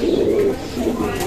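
A leopard-patterned pigeon cooing close by, low throaty rolling coos filling the short moment, with faint background murmur.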